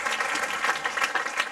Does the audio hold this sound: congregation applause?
yes